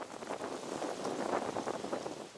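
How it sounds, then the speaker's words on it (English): Strong wind gusting across an open wind farm site in Cambodia, buffeting the microphone with loud, rushing, uneven roars throughout. "It's very windy, so when you come to site, seeing the grass, the trees blown by the wind"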